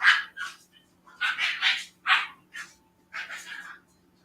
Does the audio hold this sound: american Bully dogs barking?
yes